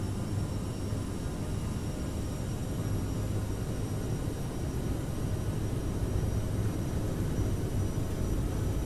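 Jet engines of a CRJ7 regional airliner spooled up to takeoff thrust in Microsoft Flight Simulator, a steady, loud broadband roar with a low rumble and faint high whine, unchanging throughout with no voices.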